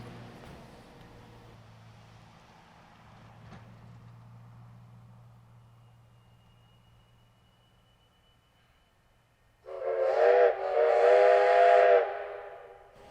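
Quiet rumbling at first as a steam train comes out from behind a depot, then a loud steam whistle blasts in near the end, bright and harmonic with a rushing hiss.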